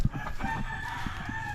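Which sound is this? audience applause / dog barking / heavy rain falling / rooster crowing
rooster crowing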